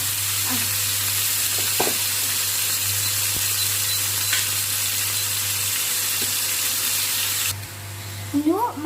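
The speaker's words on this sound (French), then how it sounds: "Et on va verser le poulet dans la casserole." Chicken pieces fry in hot oil in a pan for homemade tacos, giving a loud, constant sizzle while a spoon stirs them with occasional scrapes and clinks.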